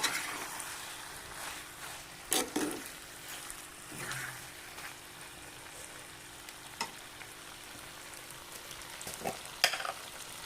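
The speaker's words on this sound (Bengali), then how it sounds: "শুকনো করে ফেলবো একবারে নেড়ে নেড়ে" Jackfruit curry with prawns being stirred and fried dry in a little oil in a wok, giving a low continuous sizzle with occasional scrapes and knocks of the spoon, fairly quiet and without talk.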